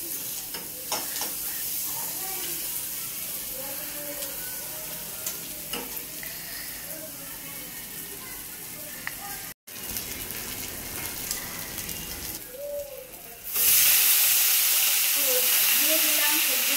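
Vegetables including cauliflower, tomato, flat beans, spring onion and potato sizzle steadily in a pan with stirring scrapes, a brief cutoff midway, then a loud hissing gush of steam near the end.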